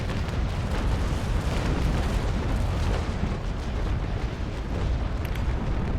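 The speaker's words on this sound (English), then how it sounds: "lowering the cannons, and fire." Naval Action ship cannons fire in a fleet battle during a boarding action, a dense rolling barrage of deep booms that merge into a continuous roar, loud and close for several seconds.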